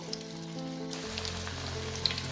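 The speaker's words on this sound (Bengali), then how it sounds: "তো তেলটা আমার গরম হয়ে গেছে, এতে আমি একে একে এই মাছের পিসগুলোকে দিয়ে দেবো" Pieces of fish for Kolkata-style fish kabiraji dropping into hot oil in a wide frying pan, a steady close sizzle that thickens after the first second and runs on without pause, no talking.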